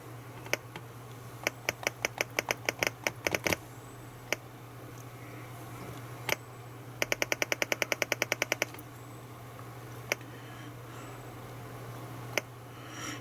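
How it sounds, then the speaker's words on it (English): Keys on a Sinclair ZX Spectrum keyboard are pressed in quick bursts of clicky taps, separated by pauses and single presses, close up over a steady low electrical hum. "It's so awkward trying to get used to the old keyboard back again."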